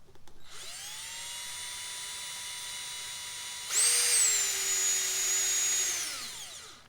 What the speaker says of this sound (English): we will put our stainless steel screw in